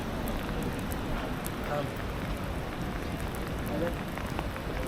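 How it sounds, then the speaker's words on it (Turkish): Steady rain falls on a street in Ankara, a continuous soft hiss and patter at moderate distance, with faint traffic or passing sounds beneath it. "Yağmur böyle yağıyor."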